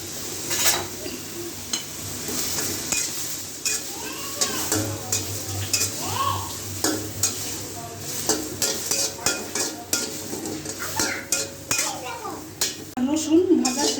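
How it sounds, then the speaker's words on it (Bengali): Garlic and green chilies sizzle in a pan for a coriander-leaf bharta, while a utensil stirs and scrapes with frequent metallic clinks; a voice talks intermittently over the steady frying. "আরেক চুলায় আমি এখন ধনেপাতা ভর্তার জন্য রসুন কাঁচামরিচ ভেজে নিব।"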